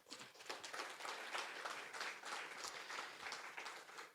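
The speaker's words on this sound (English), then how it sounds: "So please, big round of applause for all the speakers that came in today." Audience at a climate tech day event clapping for the panel speakers, dense and even applause that holds steadily throughout, fairly quiet overall with no talking over it.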